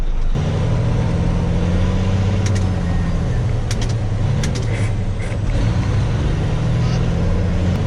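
A car idling forward without gas during a driving lesson, heard from inside as a steady low engine rumble and road drone throughout, with a few faint clicks and rattles in the cabin.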